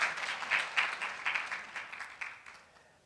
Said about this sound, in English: Yes, you should clap for that.